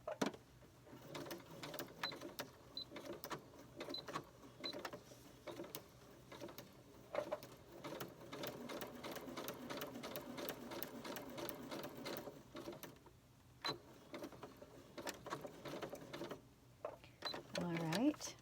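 Sewing machine stitching a paper-pieced quilt block, quiet rapid ticking stitches in runs with brief stops, while a person speaks over the mechanical clatter.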